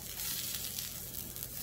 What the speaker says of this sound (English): we're just going to let this pork roll continue to sizzle